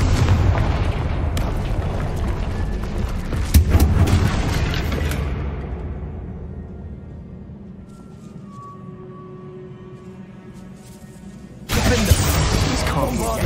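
A Confringo spell in Hogwarts Legacy blasts through a barrier, a loud rumbling explosion with a long decaying roar and debris, followed by quieter ringing tones and a renewed burst of noise near the end.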